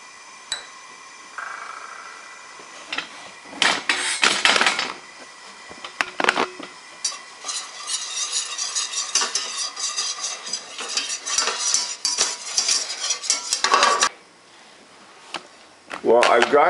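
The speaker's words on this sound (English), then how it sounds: "I'm going to just toss all the flour in at once" Flour is stirred into melted butter in a pan for a roux for cauliflower cheese sauce, with close scraping and clinking utensil sounds and soft sizzling, in uneven bursts throughout.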